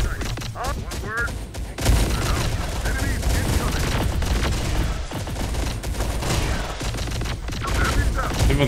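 Shotguns and other weapons fire in a steady loud barrage during a battle in the video game Terminator: Dark Fate - Defiance, with overlapping blasts and explosions throughout and game voices heard faintly in the mix.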